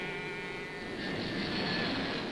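A steady jet airliner engine roar, broadband and continuous, swelling slightly as the plane passes overhead.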